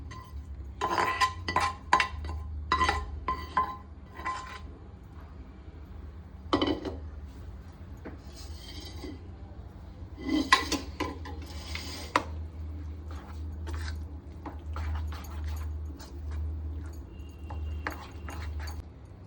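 Rava aappe batter being mixed with lightly oil-fried vegetables in a bowl, a spoon clinking and scraping against the sides in irregular bursts over a low steady hum.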